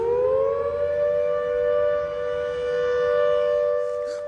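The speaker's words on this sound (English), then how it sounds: "That's a siren." A loud civil defense siren wails steadily nearby, one long sustained tone that rises at the start and then holds, with no voices over it.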